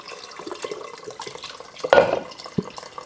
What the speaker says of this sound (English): Go ahead and add our 2 cups of water.